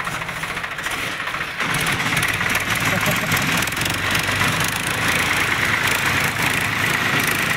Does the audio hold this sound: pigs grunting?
no